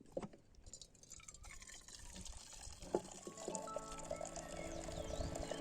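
Hot water for camp tea pours into a cup at a highland campsite, a faint trickle that swells into a rising, filling gurgle as the vessel fills, close by with no talking.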